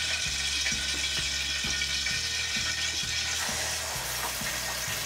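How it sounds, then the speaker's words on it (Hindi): Onion paste sizzles and fries steadily in hot oil for a Punjabi-style rajma masala, a loud continuous crackle with a soft rhythmic scraping of stirring underneath, and no voices. "तो हमें प्याज को अच्छे से भूनना है जब तक वो लाइट ब्राउन कलर का नहीं हो जाता"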